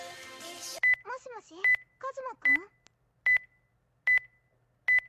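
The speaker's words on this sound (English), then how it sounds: "I hope that's the game and it's not my carbon monoxide alarm going off" An electronic alarm in a video game beeps six times at a steady pace, each a short, sharp, high tone with silence between, while a person talks in the gaps at the start.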